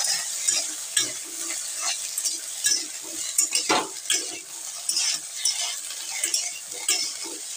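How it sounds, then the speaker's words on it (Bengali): Dried soybean chunks stirred in a hot pan for a Bengali-style vegetarian dish, steady sizzling frying under repeated scraping of a spatula against the metal, close and continuous with no talking. "এবার একটু নেড়ে দেবো"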